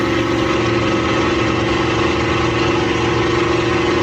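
A loud, steady Rolls-Royce Merlin piston engine on a Spitfire drones continuously at high power during takeoff with a deep throbbing roar and no letup.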